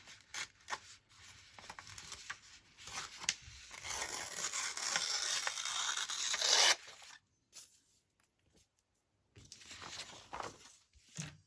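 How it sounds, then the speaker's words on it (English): Yellow paper being torn by hand for a summertime journal page spread, a long, close, raspy rip lasting several seconds, then quiet, then more rustling paper handling. "So we'll tear this down here."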